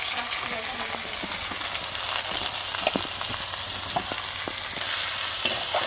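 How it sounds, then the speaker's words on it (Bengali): Onions fry in hot mustard oil, crackling and sizzling steadily while a utensil stirs and scrapes the pan in irregular clicks. "পেঁয়াজটা ভালো করে ভাজা হোক।"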